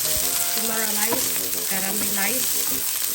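Onions frying and caramelizing in a pan for egg fried rice with luncheon meat, a steady close sizzle with stirring scrapes throughout.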